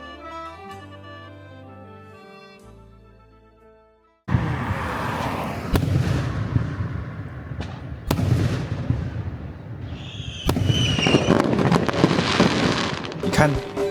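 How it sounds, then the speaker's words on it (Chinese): Music gives way to loud, booming bursts from rockets at the Yasothon Rocket Festival in Thailand: several sharp blasts with crackling, roaring tails over steady crowd noise, with people talking. "隔天早上就被这个火箭爆炸声给吵醒了"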